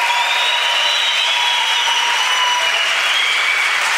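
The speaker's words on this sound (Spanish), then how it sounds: "Venga, sí, va, aplausos." Audience applause at a live comedy podcast show, a steady dense wash of clapping that holds at full loudness throughout with no pause.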